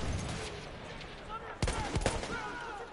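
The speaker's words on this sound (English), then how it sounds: "Enemy machine gun" Enemy machine gun fire in Battlefield 1 cracks in a couple of sharp bursts amid dense battlefield noise, set behind a player talking.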